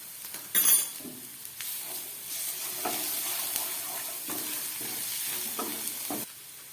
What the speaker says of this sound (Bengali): পেঁয়াজটা ভাজা হয়ে এসছে এবার আমি এর মধ্যে দিয়ে দিচ্ছি একটু থেতো করা দু তিন কোয়া রসুন